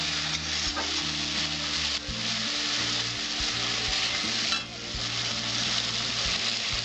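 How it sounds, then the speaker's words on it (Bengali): Spice masala for a pomfret fish curry sautés on low heat, giving a steady, close sizzle with scraping stirs mixed in and no one speaking. "কম আঁচে আমি মশলাটা কষিয়ে নেব।"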